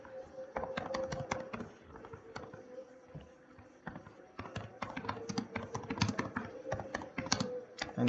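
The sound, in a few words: typing a C program statement on a computer keyboard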